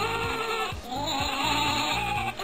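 Repeated sheep bleats in a CS:GO reaction-training map, a series of short wavering calls at a steady pace over a constant electronic hum, with no talking.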